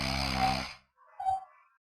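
Two rough snores from a person with sleep apnea, shown in a medical video, come close together, with a longer, louder snore followed by a shorter, fainter one.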